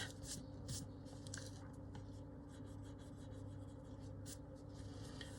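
A cream colouring pencil scratches and rubs softly across paper as it blends the layers underneath. The short strokes come in irregular bursts, faint and close, over a quiet background hum.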